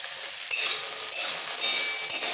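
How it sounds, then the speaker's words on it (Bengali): Okra fries in hot oil with salt and turmeric, a continuous close sizzle broken by several scraping stirs of a utensil against the pan. "ঢেঁড়স তেলের মধ্যে একটু নাড়াচাড়া করে দিয়ে দিতে হবে সামান্য একটু নুন আর হলুদ।"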